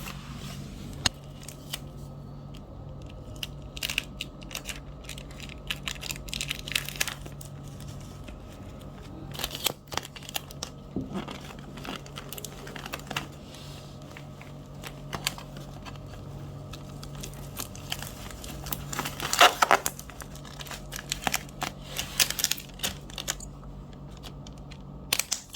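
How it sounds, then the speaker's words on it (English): Tape is pulled and pressed along the edges of a ziplock bag, making quiet, scattered crinkles, rips and taps with pauses between them and a few louder tearing bursts. "so I tape this to ensure that this doesn't come out, opens up in any way"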